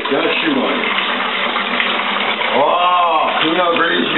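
Pinot Grigio wine kit concentrate pouring in a steady, continuous liquid stream, close and fairly loud, with a gurgling shift near the end.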